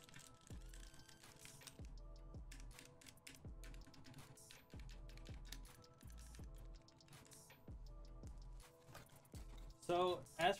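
Typing on a Ducky One 2 Mini RGB mechanical keyboard, a quiet, steady run of soft clacky keystrokes with a few louder rattling presses at the end.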